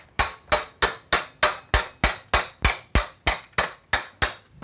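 A hammer delivers about thirteen sharp, evenly spaced whacks to the chain of a Razor E300 electric scooter during reassembly. Each strike is close and loud with a quick decay, and no talk is heard.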